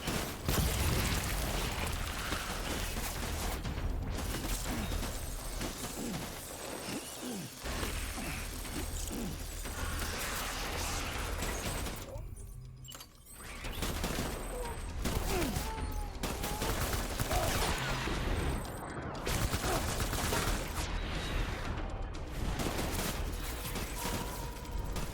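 Gunfire in the video game Death Stranding, with dense, continuous bursts of shots and mechanical clatter. It runs loud and sustained for the whole stretch, with only a brief dip near the middle.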